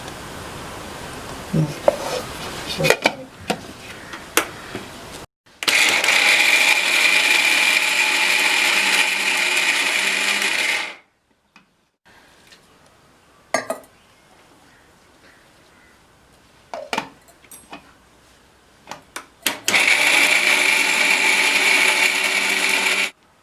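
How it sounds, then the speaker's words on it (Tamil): A mixer grinder blends Bombay chutney ingredients, including coconut pieces, chopped tomato and green chillies, in two loud, whirring bursts of about five seconds each. Clicks, clatter and quiet handling fill the pause between them. "அரைக்கும்போது பெருசாக கேட்காது."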